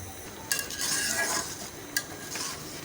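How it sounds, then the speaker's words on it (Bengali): Ripe mango pulp being stirred in a pot until thick, soft scraping and gentle sizzle with two sharp spoon-against-pot clinks, close and quiet, no voices. "এখন এটাকে অনবরত নেড়ে একদম গাঢ় করতে হবে"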